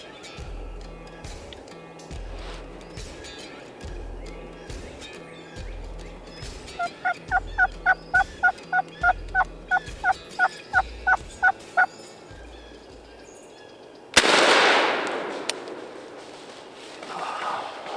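A wild turkey gobbles during an Alabama turkey hunt, a run of quick, evenly spaced sharp notes rising out of low rumbling background, followed by a sudden loud blast near the end.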